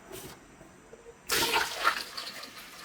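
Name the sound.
water poured into peanut butter machine for cleaning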